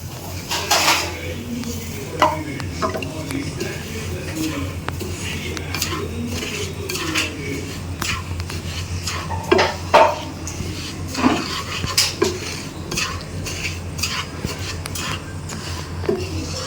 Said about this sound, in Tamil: இதே நெய்யில் ரவாவை நல்லா கலர் மாறாமல் வறுத்துக்கணும்.